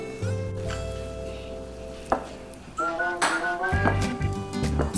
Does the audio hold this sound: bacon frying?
yes